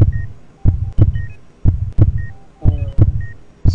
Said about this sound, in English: So we see the inside of the heart beating